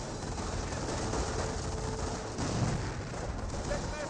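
A grenade goes off in Company of Heroes, the World War II strategy game, amid a steady wash of distant battlefield gunfire and rumbling artillery, with a dull thump standing out partway through.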